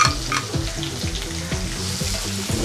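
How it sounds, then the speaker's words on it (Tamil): Two medium onions and curry leaves frying in a pan, a steady close sizzle with rhythmic scraping stirs, no talking. "நல்லா கொஞ்சம் நல்லா பொன்னிறமாக வதக்கணும்."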